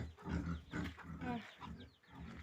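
A pig grunts and snorts in a run of rough, repeated bursts, fairly close with short pauses between.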